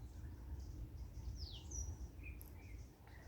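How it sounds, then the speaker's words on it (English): Birdsong along wooded nature trails in a reserve in Gauteng: a few thin, faint chirps and a short descending whistle come and go over a steady low background rumble, with no talk. "You can hear that the birds really love it here."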